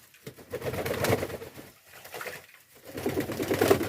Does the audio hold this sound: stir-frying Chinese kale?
no